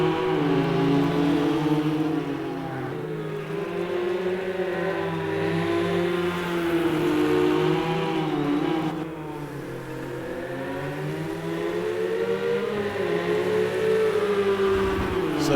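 Ferrari race car engine in the Ford vs Ferrari racing game at Sonoma GP, a loud, steady high-revving drone with rising and falling pitch as the car shifts through corners, continuous and close.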